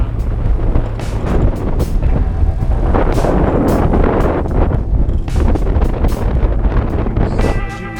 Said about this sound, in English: as soon as I put the camera in the wind, you'll see how windy it is